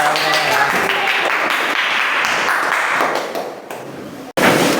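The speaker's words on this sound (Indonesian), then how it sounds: "Tepuk tangan untuk kelompok 1 dan 2" A 4th-grade maths classroom claps for groups 1 and 2, a dense patter of many small hands fading out, with children's voices mixed in and a brief cut near the end.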